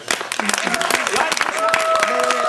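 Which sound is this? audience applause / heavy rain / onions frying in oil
audience applause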